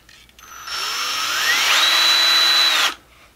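A power drill whines steadily for about two seconds, shifting pitch midway, while backing screws out of the wheels of a radio-controlled Humvee model, loud and close with brief quiet before and after.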